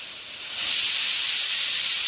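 A stovetop pressure cooker cooking a one-pot rice dish with long beans lets off its whistle: a loud, close, airy steam hiss that swells after half a second and holds steadily.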